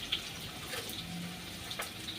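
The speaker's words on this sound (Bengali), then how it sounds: "চালটা ধুয়ে দিলাম" Rice being washed under a running tap, a faint continuous stream of water with soft splashes and a few small clinks, no voices.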